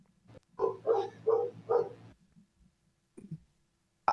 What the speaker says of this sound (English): I think whoever's dog is barking should mute up while Jason's reporting the news.